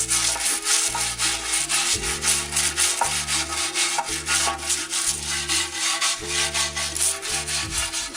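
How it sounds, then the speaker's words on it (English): Steady rhythmic wire brushing and scraping of paint off a garden pot, repeating roughly once a second, close and fairly loud with no talking. "is just to do the whole thing with the wire brush, then go back and scrape it"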